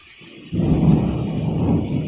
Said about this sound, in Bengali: ঝড় আর মেঘ ডাকাটাই সব থেকে খারাপ